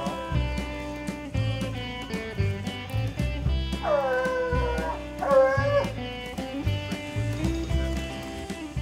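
Coon hunting dogs bay and bawl beneath a pin oak where a raccoon is treed at night, a chorus of close, repeated howling barks with drawn-out wavering cries rising in the middle.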